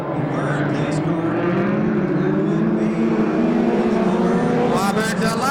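USAC Western States midget race car engine roaring around a dirt oval track, a sustained loud drone with shifting pitch as cars circle, mixed with crowd and announcer-style talk throughout.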